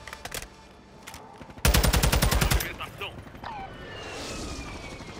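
Bursts of automatic gunfire in Call of Duty: Warzone 2.0, a dense rapid volley near the middle with scattered shots before it, heard under players talking over voice chat.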